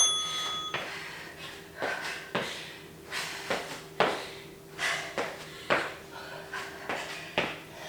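Repeated bright metallic bell dings from a workout interval timer during a bodyweight HIIT cardio session, about a dozen sharp strikes spaced roughly half a second to a second apart, fairly close and clear over a quiet background.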